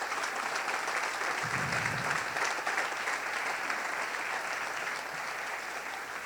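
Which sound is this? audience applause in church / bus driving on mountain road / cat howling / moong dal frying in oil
audience applause in church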